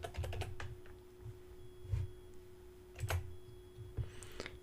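Typing on a computer keyboard at a desk, a few quick bursts of close, soft key clicks separated by pauses, with a faint steady hum underneath.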